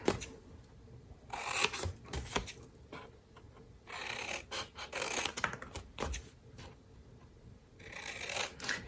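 Paper card is cut along a score line with small snipping and rasping strokes in several bursts, close and fairly quiet, during a Christmas Scotties stamping craft class.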